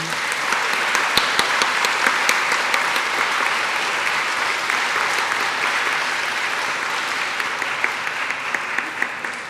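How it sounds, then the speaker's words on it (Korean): A congregation applauds in church during a Pentecost Sunday Eucharist service, steady sustained clapping from many hands filling the room for the whole stretch, with a few sharper claps standing out early on. "다시 한번 인사할 때 큰 축하의 박수를 부탁드립니다."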